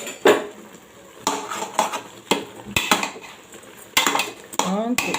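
A covered metal pot of egusi soup is shaken in several bursts, its lid and pan clattering and rattling loudly between short quieter gaps.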